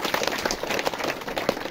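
Church members give their committee a short round of applause: a brisk burst of many hands clapping together, fairly close and even, with no talking on top.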